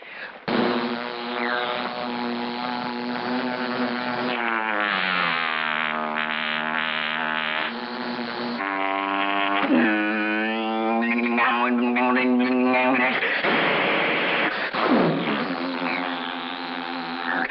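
A sustained vocal drone mimicking a squadron of airplanes, with shifting pitch and rising and falling tones, loud and continuous without a break.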